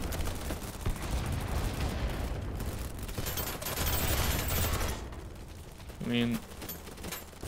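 Rapid automatic gunfire rattles in bursts during a BattleBit match, dense and loud for several seconds before fading into scattered shots, with a brief spoken remark near the end.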